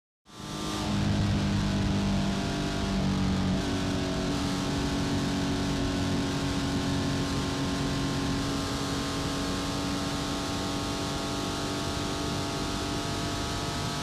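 A race car drives through turn 2 at Willow Springs Raceway at higher speed, its engine a loud, sustained drone heard close from onboard, holding steady with slight pitch changes through the corner.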